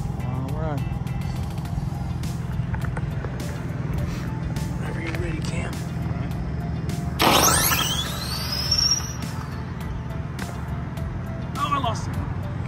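A no-prep RC drag car makes a pass: a high, thin motor whine rises sharply and fades over a couple of seconds, set against steady outdoor crowd noise and an announcer's commentary.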